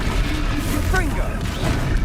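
Confringo fire-blast spell cast in the Hogwarts Legacy video game, a burst of crackling impact noise buried under continuous loud game audio and a voice.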